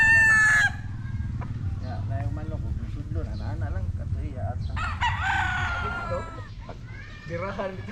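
Hens cluck steadily close by while a rooster crows loudly at the start, over a constant low rumble of background noise.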